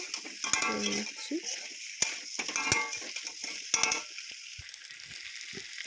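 Spice masala with taro is sautéed in a pan, giving a steady frying sizzle with intermittent clanks and scrapes of a spoon against the pan, close up.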